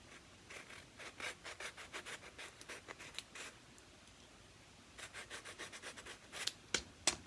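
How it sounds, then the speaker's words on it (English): Sandpaper scuffing the contact surfaces of a Grogu puppet's head mechanism before epoxying, a quick series of short rhythmic scratching strokes, close and quiet, in two bursts separated by a pause. "sand the contact surfaces right here with some sandpaper. Just scratch it up a little bit."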